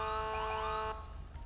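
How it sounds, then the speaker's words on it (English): Police siren from the LSPDFR mod in GTA V, a steady tonal wail with strong harmonics sounding loud for most of the moment, then cutting off abruptly and leaving low rumbling background noise. "that siren's getting so annoying, guys"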